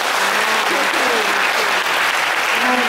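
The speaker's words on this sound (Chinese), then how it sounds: "来，掌声欢迎！" Audience applauding at the curtain call of a Taiwanese opera troupe, a dense, sustained round of clapping filling a large performance hall, with faint voices underneath.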